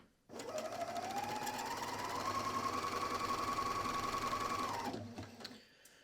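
A Bernina L 460 serger chains off at the end of an overlock seam, its motor humming steadily and rising slightly in pitch for about four seconds before winding down and stopping.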